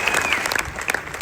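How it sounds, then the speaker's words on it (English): Applause from a crowd at a statue unveiling, a steady patter of many hands clapping at moderate volume, with a faint whistle or cheer rising over it. "I'd like a round of applause for Henrietta Wilkens for what she's done."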